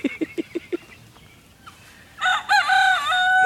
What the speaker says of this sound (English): Dueling roosters.